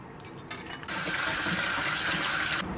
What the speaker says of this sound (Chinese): 鸡爪煮熟过后，我们用凉水给它清洗一下